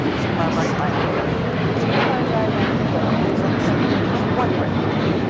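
An airliner taking off from runway 25 right at Los Angeles International Airport, a steady broad jet engine roar that holds loud and constant throughout, with faint radio voices mixed underneath.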